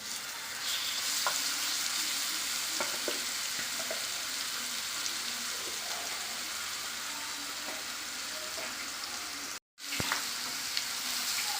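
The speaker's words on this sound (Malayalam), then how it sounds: "നമ്മൾ നേരത്തെ മിക്സിയുടെ ജാറിൽ മാറ്റി വെച്ചിരിക്കുന്ന അരപ്പ് നമുക്ക് എണ്ണയിലോട്ട് ഇട്ട് കൊടുക്കാം" Ground masala paste sputtering in hot oil for a chicken fry, a close, continuous hiss dotted with small pops and occasional utensil clicks, briefly cutting out near the end before resuming.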